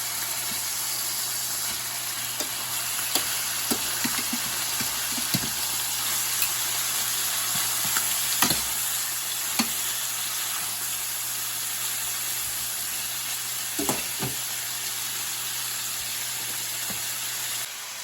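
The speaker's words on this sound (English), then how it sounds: "You want to get a nice little sear on there before you turn them." Chicken breasts sear in a pan with a constant broad sizzle and hiss, dotted with faint pops and crackles over the whole stretch. No voices are heard.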